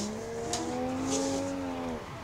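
A 315-wheel-horsepower car spins out in Assetto Corsa at Ebisu Complex, its engine droning steadily beneath a sustained, sliding tire squeal that bends in pitch before easing off.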